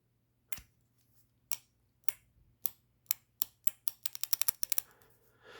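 A 2023 Yamaha MT-10 steering damper clicks sharply and nearby, slow single clicks at first, then a quickening run of rapid clicks, each one crisp against a quiet background.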